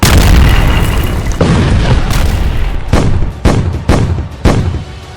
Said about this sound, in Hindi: हमास के ठिकाने पर बम बरस पड़ते हैं